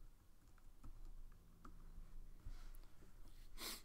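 Typing on a computer keyboard while building a patcher in Max 7, a quiet run of light scattered key clicks with a brief louder burst near the end, recorded close with no talking.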